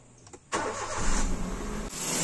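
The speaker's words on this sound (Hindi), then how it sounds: "अभी हम इंजन को चालू करेंगे" A Maruti Suzuki Wagon R engine cranks and catches after a half-second of quiet, then settles into a loud, steady idle with a brief dip and a return to running, close up during radiator replacement work.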